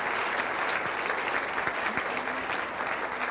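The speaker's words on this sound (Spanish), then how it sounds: "Vamos a darle un aplauso al Rey de Reyes y Señor de Señores." A church congregation breaks into loud, continuous applause, many hands clapping close by and evenly throughout, with faint voices mixed in underneath.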